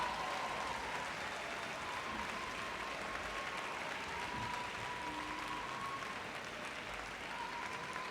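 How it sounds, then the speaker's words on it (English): An audience at a dog show gives sustained applause for the junior handling champions, steady, even clapping that fills the whole stretch without a break. "Once more, give them a massive round of applause."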